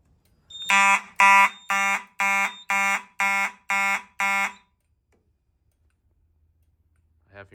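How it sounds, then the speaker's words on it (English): A smoke detector on a fire alarm board under test sounds eight loud, evenly spaced electronic beeps up close, then falls silent with a faint noise at the end. "Now let's test the detector."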